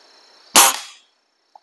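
A single sharp shot from a Webley spring piston air rifle, loud and close, with a brief decaying twang after the crack, then near silence and a faint small tap.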